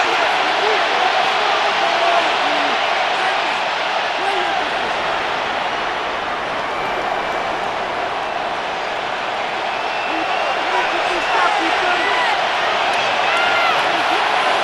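Constant roaring stadium crowd in Madden NFL 26 during a Chicago Bears versus Detroit Lions game, a dense wash of noise with a commentator speaking over it.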